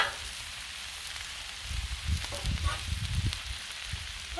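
Collard greens sizzle and fry on a Blackstone griddle, a steady close hiss with soft scraping and stirring bumps partway through and no speech.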